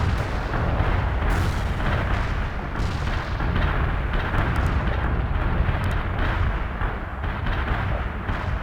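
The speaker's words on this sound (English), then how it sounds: "Cluster bomb hit with low effect." Cluster bomb artillery strike from the video game World in Conflict, a sustained loud rumbling barrage of overlapping blasts and crackling detonations rolling on without pause, no voices over it.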